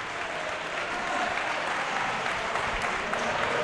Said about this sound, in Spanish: Aplaude el público el día de Miguel, reconociendo así el trabajo defensivo de los suyos